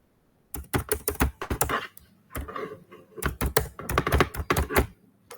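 Rapid bursts of typing on a computer keyboard as a file subject is entered in office software, close and clear, in several runs separated by short pauses.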